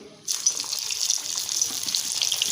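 Sliced coriander vadi hits oil heated on medium flame, and a dense sizzle bursts in suddenly after a brief quiet moment, then holds steady and close without any voices.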